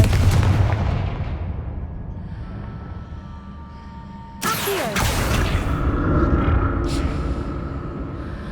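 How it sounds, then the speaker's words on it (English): Explosive fire spell bursting in the Hogwarts Legacy video game during a trial: a loud sudden blast with a sharp onset midway, followed by rumbling booms and crackle over constant game ambience. "Confringo!"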